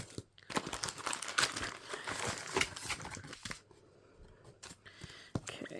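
A Topps F1 Turbo Attax 2024 jumbo card box is opened by hand, with loud, close crinkling and crackling of wrapper and cardboard in uneven bursts, easing off partway through.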